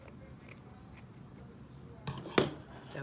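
Scissors snipping through 21-inch burlap ribbon while shaping a ruffled heart wreath, a couple of short close crisp cuts near the end over quiet room tone.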